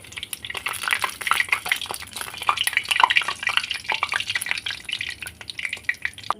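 Steady crackling sizzle of jackfruit gulab jamun deep-frying in oil, dense bubbling pops throughout with occasional stirring clinks, close and fairly loud, no talking.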